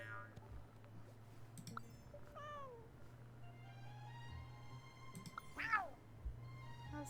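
A person imitates a cat, giving a few separate meows and mewing calls over a steady low hum in a quiet indoor room.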